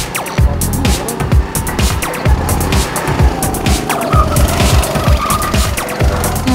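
A go-kart weaving through a pylon course, its small engine buzzing in rapid revving bursts as it accelerates and slows through the turns, with tyre squeal and scuffing mixed in, loud and close.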